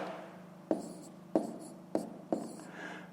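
Four short, distinct strokes of writing numbers during a fifth-grade math lesson, close and quiet with a faint background hum.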